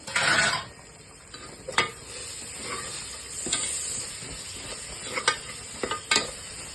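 Finely chopped mint and coriander sauté in oil for Dindigul-style mutton biryani, a soft hissing sizzle punctuated by several sharp stirring scrapes and knocks.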